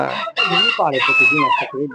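Chickens and a rooster at a fancy chicken farm keeping prized foreign breeds, with loud, close crowing and clucking calls in quick succession that nearly fill the moment.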